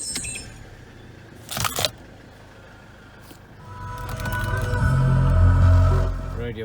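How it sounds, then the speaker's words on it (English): Keys jangle near a car during a wheel-speed diagnostic check. Partway through, the engine cranks and settles into a rising, steady idle rumble up close. "Start her up."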